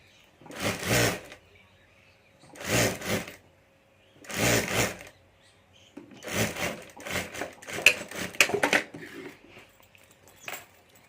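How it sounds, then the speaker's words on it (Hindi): A sewing machine stitches a fabric strip onto the zip of a handmade handbag in three separate short runs, followed by a longer burst of faster, choppier stitching with small clicks, each run close and clear against near silence. "यहाँ ऊपर हमें सिलाई कर देनी है"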